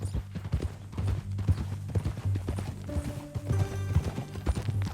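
Horse hooves clip-clopping in the video game Red Dead Redemption 2, a steady walking rhythm of fairly close hoof strikes over a low background hum, with no talk.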